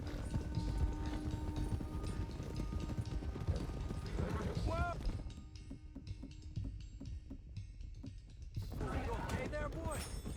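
Horses gallop in Red Dead Redemption II, with steady clip-clop hoofbeats running under a man's speech and game sounds throughout.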